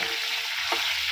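Salted green chillies fry in a pan with a steady close sizzle and hiss, broken once by a brief scrape of stirring, with no voices.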